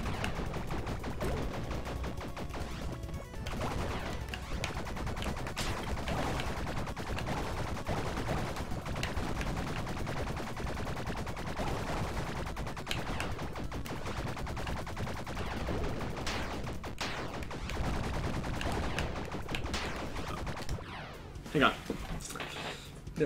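Steady, dense gunfire from shooting enemies in the video game Bleed, with rapid shots running continuously under game audio and someone talking over it.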